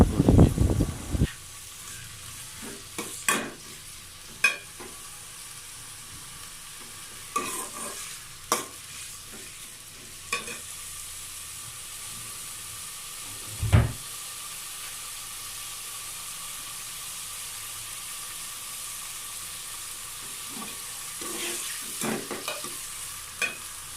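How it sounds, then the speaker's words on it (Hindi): Onions frying in desi ghee and oil hiss with a steady sizzle while a spoon stirs them, with a clatter at the start and scattered scraping taps against the pan throughout. "सबसे पहले देसी घी में हम जी ऑयल डालेंगे और फिर हम इसमें प्याज डाल के प्याज को लाइट ब्राउन होने"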